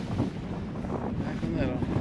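Cold wind blowing outdoors on a mountain hike, buffeting the microphone as a loud, continuous rumbling roar with gusty swells.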